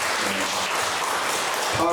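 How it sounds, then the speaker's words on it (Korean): Church congregation applauding during a Korean service blessing, a brief, dense wash of clapping filling the room with faint voices mixed in. "우리 큰 박수로"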